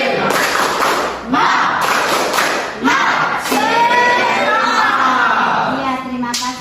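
A tenth-grade classroom of standing students performs a tepuk semangat routine: loud, rhythmic bursts of group clapping mixed with chanted voices, the claps landing in short clustered beats through the whole stretch.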